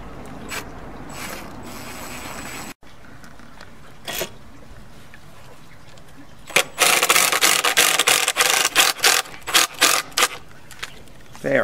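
Screws driven through boards into a frame beside a concrete patio pad for an outdoor kitchen: a burst of rapid ratcheting drill pulses near the end, with scraping and handling of wood earlier.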